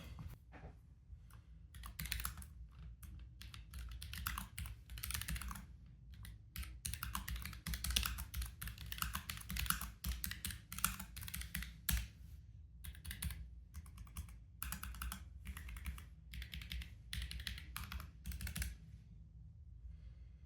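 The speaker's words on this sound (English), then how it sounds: "Let's try the Keychron K7 one more time." Steady, fast typing on a Keychron K7 low-profile mechanical keyboard, close and continuous, with dense clicking keystrokes, brief pauses and no talking.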